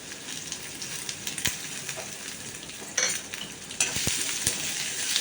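Mustard seeds, cumin and dried red chillies sizzle and crackle steadily in oil, with brisk pops and a louder burst partway through as something more is tipped into the pan.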